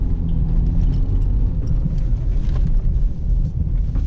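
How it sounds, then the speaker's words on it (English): A Honda Civic sliding through snow, a steady loud low rumble of engine and tyres on a slushy surface lasting throughout with no clear breaks. "One-handed drifting."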